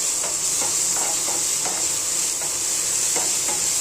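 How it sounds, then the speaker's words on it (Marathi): Ground green chili frying in hot oil for a peanut chutney, giving a steady close sizzle and hiss with light stirring scrapes throughout and no talking. "आता ही वाटलेली मिरची ना त्याच्यामध्ये फ्राय होऊन द्यायची चांगली"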